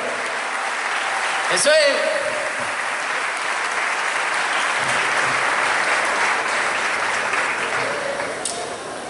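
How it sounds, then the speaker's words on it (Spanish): A festival crowd at the national guitar festival applauds steadily and loudly throughout, with a host's voice briefly calling out over the clapping and cheering. "¡Fuerte los aplausos!"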